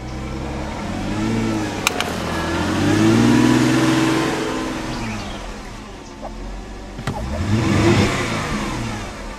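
A 2006 Mercedes-Benz C230 engine, just repaired after a misfire on cylinder six, runs loud and close, revving up and settling back twice with smooth rising and falling engine tones.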